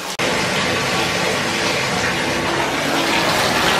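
Steady rushing water pours and bubbles continuously with body wash, a close, full gush like a tub filling with foamy wash.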